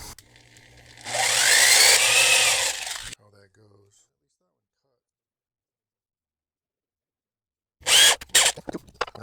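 A power drill with a Forstner bit whines loudly for a couple of seconds, then stops; after a silence, a short burst of drilling returns with clicks and handling noise.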